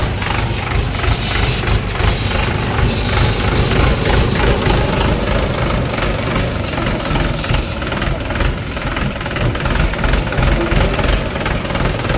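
A motorbike engine runs at a steady idle after starting, a loud continuous rumble with a rough, even pulse throughout.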